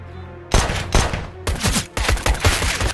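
Rapid bursts of automatic gunfire in Counter-Strike: Global Offensive (CS:GO), loud and close, in several clustered volleys separated by brief pauses.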